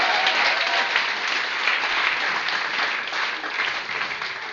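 A church congregation applauds in sustained, even clapping that fills the room at a steady level from start to finish.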